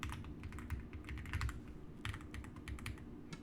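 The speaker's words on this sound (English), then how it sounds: "you can immediately hear me typing down and taking notes" Rapid, irregular keystrokes on a computer keyboard as someone types notes, close and fairly quiet, with a low steady hum underneath.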